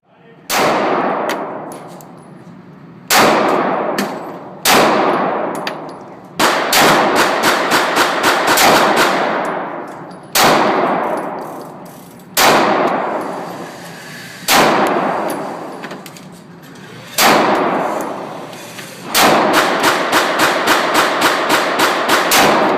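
Glock 17 RTF2 full-size 9mm pistol firing a series of loud, sharp shots, some spaced singly and others in quick rapid strings, each with a ringing decay and no talk.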